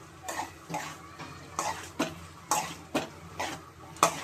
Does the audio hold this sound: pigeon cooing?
no